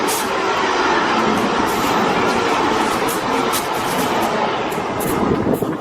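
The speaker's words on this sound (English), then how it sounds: "There's another train just going past." A train rumbles steadily past on the line near a walking path along the old LNWR Micklehurst Loop, a loud continuous roar with faint rhythmic clatter that holds for several seconds.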